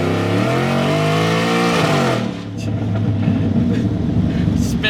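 A Coyote V8-swapped Ford F-150 Lightning pickup accelerates hard up a ramp, its loud engine note climbing steadily before giving way to a rough, broadband roar of spinning tires.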